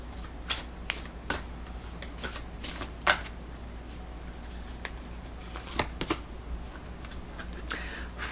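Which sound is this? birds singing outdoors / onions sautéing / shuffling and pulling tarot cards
shuffling and pulling tarot cards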